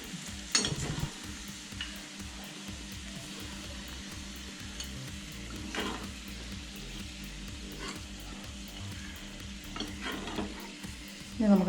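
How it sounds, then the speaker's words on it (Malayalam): Raisins fry in a pan of oil for chicken biryani with a low, steady sizzle and occasional stirring scrapes. The sound is fairly quiet and continuous, with a few sharper crackles. "ഇനി നമുക്ക് നമ്മുടെ കിസ്മിസ് വറുക്കാം."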